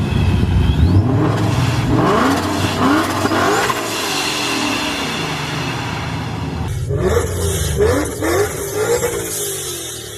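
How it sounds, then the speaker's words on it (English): A powerful supercharged Corvette engine revs and whirs loudly nearby, with a sharp hissing blow-off valve release burst after several seconds, followed by more rising revs. "That blow-off valve is super loud."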